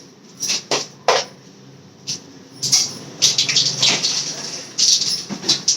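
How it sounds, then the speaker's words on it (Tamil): Mustard seeds dropped into hot oil while making prawn kuzhambu: scattered sharp pops and sputters, sparse at first and then clustering into busier crackling bursts near the pan. "இதுக்கு கடுகு போட்டுக்கலாம்ப்பா."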